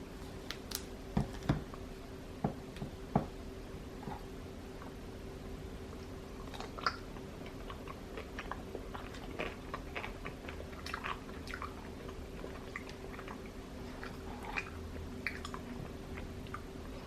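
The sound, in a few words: person chewing a soft hot pretzel with mustard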